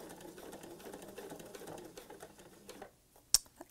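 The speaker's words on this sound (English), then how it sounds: "sewing right along that edge" A sewing machine stitches slowly along a fabric edge for a pillow, with a steady rapid mechanical chatter that stops near the end, followed by a sharp click.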